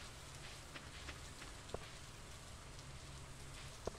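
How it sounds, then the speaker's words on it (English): Steady rain falls in the Stardew Valley farming game, a constant soft hiss with a couple of faint isolated drips standing out. "It's raining."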